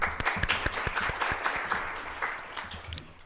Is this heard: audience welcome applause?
yes